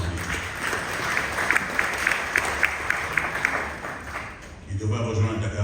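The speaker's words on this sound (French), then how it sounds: "Je pense qu'il mérite des applaudissements" Audience applause at a book festival in Dakar, a steady wash of clapping from a crowd with a few sharper claps standing out, tapering off near the end as a voice starts.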